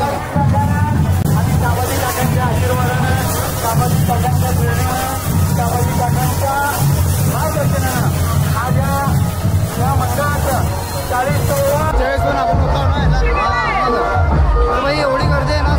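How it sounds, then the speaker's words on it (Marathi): Dense, steady crowd hubbub from a Ganpati immersion procession in Solapur, with a constant wall of voices and street noise, heard close and loud throughout. "तर भाई एवढी गर्दी आहे ना, सगळी गर्दी आहे"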